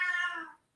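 A house cat lets out a single drawn-out meow up close, fading over half a second, followed by a faint brief noise at the end.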